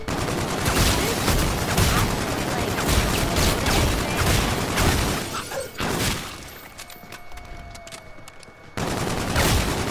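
Bursts of rapid gunfire from a weak gun in Call of Duty Zombies, loud and close in repeated volleys, with a short lull and a faint tone before the shooting resumes.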